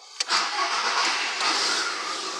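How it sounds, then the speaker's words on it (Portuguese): A Volkswagen Golf's engine cranks briefly, then catches and settles into a steady, fairly loud running hum, recorded up close for a couple of seconds after being rescued and repaired at home. "Pronto, o carro pegou."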